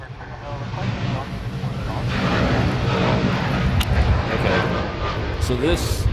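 A Jetstar airliner's engines roar as it flies past at an air show in Hawaii, a broad rumbling wash that swells and holds, with crowd noise and voices mixed in.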